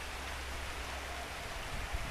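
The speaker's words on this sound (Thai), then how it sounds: "นี่ฝนกำลังตกเลยตกหนักเลยที่บ้านสวน" Heavy rain falling in a garden on an April afternoon, a constant, full hiss of drops hitting surfaces with faint low splatters, unbroken and close, with no talk.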